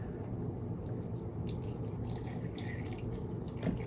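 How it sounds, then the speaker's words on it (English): Boiling water pours into a mug holding dolls, a steady low splashing and trickling stream that runs throughout, close and unbroken, with faint dripping on top. "this is boiling water and I'm just going to pour it in here"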